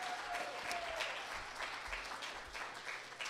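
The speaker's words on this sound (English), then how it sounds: "Let's give him another round of applause." A live audience applauds a performer after his set, a dense burst of clapping with some cheers that holds steady and full throughout.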